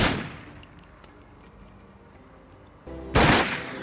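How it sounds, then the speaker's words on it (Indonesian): A gunshot fired during handgun shooting practice, one loud sharp crack near the end after a quieter stretch of faint room noise. "Setelah itu, Gemma melatihnya menembak"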